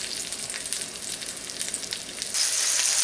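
Pork chops sizzle in a frying pan over medium heat for a garlic mushroom keto recipe, a steady close crackling hiss that swells louder near the end, with no talking.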